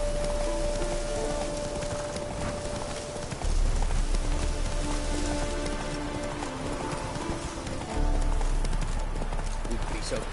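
Hooves beat in a rapid clip-clop as a horse gallops through rain in The Witcher 3, with rainfall hissing steadily and voices talking over the hoofbeats.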